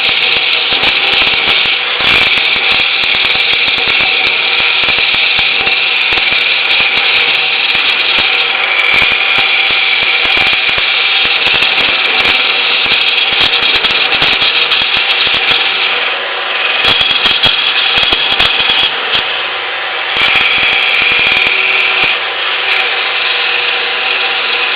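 A wood lathe turns a beetle-killed pine goblet as a cutting tool shaves the wood, a loud continuous whirring hiss with rapid rattly scraping and brief dips in intensity.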